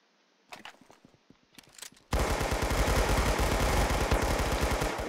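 Rapid automatic gunfire in the Roblox game Arsenal, a long sustained burst of dense, loud shots after a couple of brief scattered earlier shots, heard alone without talk.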